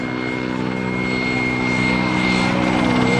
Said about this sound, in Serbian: trenutno možda vidite helikopter Mi-8 i Gazela u naleti pored vas